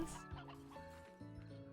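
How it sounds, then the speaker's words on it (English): Hens clucking in a video game, a few short soft clucks and murmurs close together, faint, with no talk over them. "So I'm just gonna gather up these hens."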